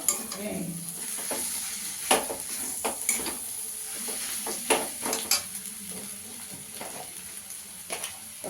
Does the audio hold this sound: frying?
yes